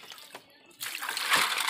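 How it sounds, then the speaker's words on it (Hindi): Food being washed by hand in water during village cooking, with sloshing and splashing that grows louder and steadier partway through, close by, with no talk. "इसको धो लेना है अच्छे से।"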